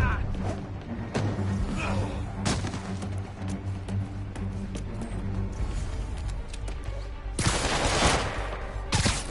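Enemy gunfire crackles through a street fight in Marvel's Spider-Man, with bursts of shots and heavy thuds repeating over several seconds, loud and dense beneath game music and voices.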